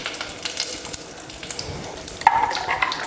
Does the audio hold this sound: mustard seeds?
yes